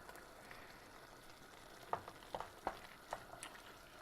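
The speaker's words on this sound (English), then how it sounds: "I'm just going to leave this to simmer." Bolognese sauce with a stock cube and tomato puree cooking in a pan, a faint steady sizzle with a few soft bubbling pops and a light stir, heard alone.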